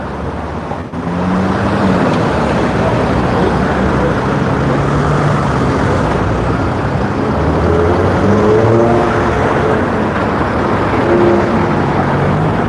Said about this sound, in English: I am in the street, so you will hear noise, cars, people talking, and the wind is really strong.